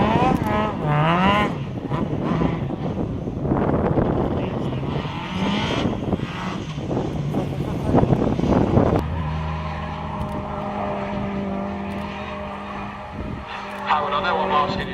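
A classic Ford Escort Mark II rally car revs hard while doing donuts on the way to a pit lane at a rally day event, its engine loud and continuous beneath live commentary.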